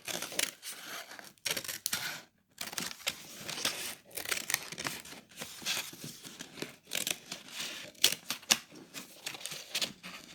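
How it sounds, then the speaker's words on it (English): Scissors cutting all the way around a paper plate for a dreamcatcher craft: a close, continuous run of crisp snipping and crinkling paper with brief pauses, no voice heard. "And you're going to cut all the way around."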